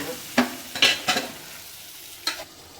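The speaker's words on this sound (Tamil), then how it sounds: "இன்னும் நல்லா வதங்கட்டும் கொஞ்சம் நேரம் நல்லா வதங்கிடுச்சு நல்லா செவக்க வதங்கிடுச்சு" Food sautés in a pan until browned, a low sizzle broken by a handful of sharp scraping stirs from a spoon against the pan, close and alone without any talk.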